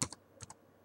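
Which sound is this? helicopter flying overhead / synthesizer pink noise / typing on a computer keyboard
typing on a computer keyboard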